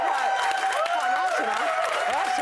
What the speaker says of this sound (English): on that note, give him a round of applause